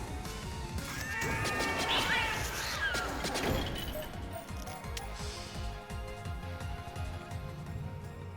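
A cat meows briefly in the video game Vampire Crawlers, a few short mewing cries early on over a busy bed of clattering game sound effects, with no talking.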